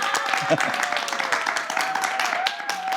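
Studio audience of a Korean talk show gives a short round of applause to welcome a guest author, dense steady clapping with a voice speaking over it.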